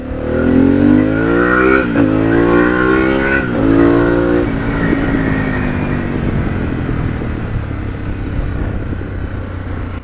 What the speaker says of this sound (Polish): Mam nadzieję, że słyszycie, że wydech od razu pracuje inaczej.